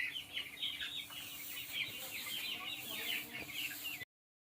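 Twelve-day-old farm chickens cluck and cheep continuously while eating, a busy chorus of many birds close by that runs steadily before cutting off abruptly.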